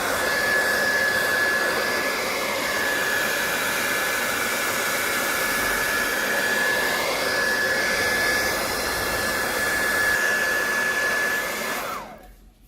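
Heat gun blowing hot air onto the back of a Huawei Mate 20 Pro phone, a loud steady whooshing roar held close and continuous for about twelve seconds before cutting off abruptly at the end.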